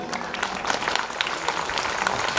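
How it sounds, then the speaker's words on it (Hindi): Steady applause from a crowd, many hands clapping continuously and evenly throughout. "कम माता जी को साक्षी मानते हुए तालियां बजानी है"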